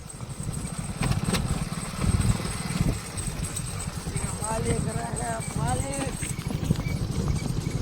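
A mare's hooves clip-clop in a quick, steady rhythm on a hard surface throughout, close and clear, while people talk over the hoofbeats.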